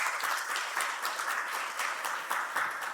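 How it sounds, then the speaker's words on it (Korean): A church congregation at a Korean Sunday worship service applauds to welcome a visitor, with steady, even clapping from many hands sustained throughout and no talking over it. "우리 같이 박수 한번 하시겠습니다."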